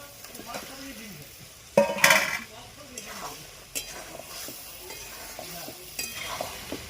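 Masala with peas, coffee and steamed egg being stirred and sautéed in a pan, with intermittent scraping strokes and a brief louder clatter early on, over a soft background sizzle.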